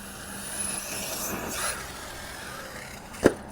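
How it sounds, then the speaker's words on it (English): An Arrma Kraton 6S V4 RC car drives across snow, its electric motor whining and rising and falling at a middle distance, followed by a sharp thud near the end as it lands or strikes something. "The car is flying beautiful today."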